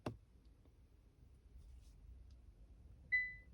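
A single short electronic beep from a Hyundai Ioniq 6 dashboard as disc brake cleaning mode turns off, near the end, after a brief click at the start, over a quiet low background hum.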